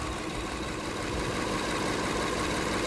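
A Toyota Kluger V6 engine idles with a misfire on cylinder 6, giving a steady, rough, close rumble with uneven knocking pulses and no talk.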